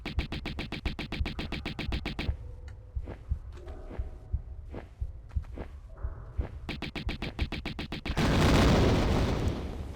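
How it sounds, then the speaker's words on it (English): Rapid, rhythmic booming thuds of video game explosions in Tomb Raider repeat in a fast pulse, pause into scattered pops, then resume before a loud rumbling blast. "The explosions are so loud."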